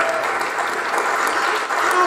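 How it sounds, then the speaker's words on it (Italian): A club crowd at a Miss Butterfly 2022 beauty pageant award ceremony bursts into loud, sustained applause, a dense steady roar of clapping close by that barely dips throughout. "Intanto vorrei un grandissimo applauso per Chris Aglia."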